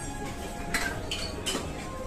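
A serving spoon clinking against dishes at a busy buffet line, with a few light, quiet chinks spread over a steady background murmur.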